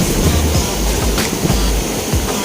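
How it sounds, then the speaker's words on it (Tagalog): Steady rushing surf of sea waves washing in at a shallow beach in Nasugbu, Batangas, close and fairly loud, with wind noise buffeting the microphone and no voices. "enjoy natin ang mga alon"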